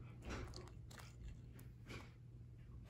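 Quiet, close crunchy bites and chewing on a baked pretzel left to sit until crisp, a few distinct crackling crunches over about three seconds with no talking.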